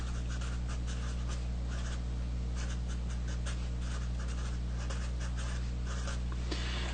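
Marker or chalk strokes on a board in a physics lecture setting scratch in short, repeated bursts over a constant low electrical hum, with no talking.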